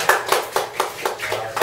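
A small group applauds in a room, giving about seven evenly spaced, fairly close claps in a steady rhythm, each one crisp and bright.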